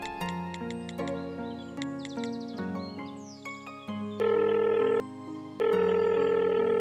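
A telephone in a Hindi movie scene is dialed with a quick series of tones, then rings in two long, loud electronic bursts, with a music-like tonal bed underneath and no speech.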